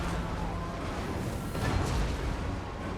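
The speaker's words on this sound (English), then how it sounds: "Hail of gunfire." Gunfire in a Total War: Warhammer 2 battle, heard as a dense, rumbling wash of distant volleys and booming blasts that swells slightly midway, continuous for about three seconds.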